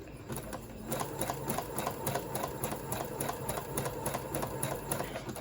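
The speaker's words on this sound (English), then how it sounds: "So I placed my zigzag number here in my dial, and now we shall just stitch." A domestic sewing machine stitches a zigzag stitch, its needle pattering in a quick, even rhythm without pause, heard close up and fairly quiet.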